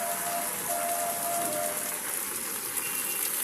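Steady rain pours down on Dhaka in a dense, continuous hiss with no pauses, close and fairly loud throughout.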